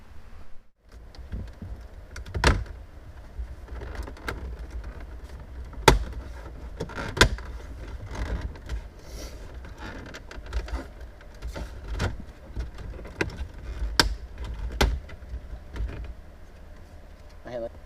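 A car interior trim panel on a Mitsubishi Evo X being pried off, heard as a series of sharp, close plastic clicks and pops spaced irregularly over a quiet background, with a voice talking faintly.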